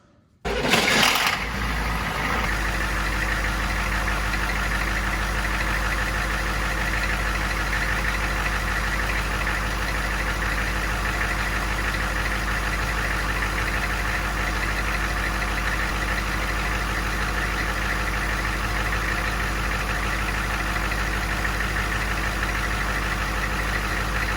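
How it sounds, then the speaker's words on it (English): A HMMWV's 6.2L naturally aspirated diesel engine starts and settles into a loud, steady idle with a low, rattling knock that continues unchanged. "it's a little hard to talk over the vehicle when it's running because of how loud it is"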